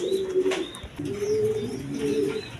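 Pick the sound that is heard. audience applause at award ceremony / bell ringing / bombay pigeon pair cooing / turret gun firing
bombay pigeon pair cooing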